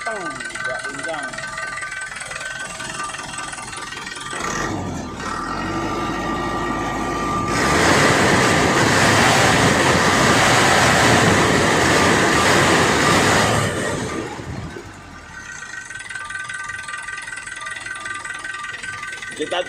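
A Dyna 130HT motorcycle engine runs after its plunger was replaced and tuned, a steady close mechanical drone that swells louder for several seconds midway, then settles back to an even idle.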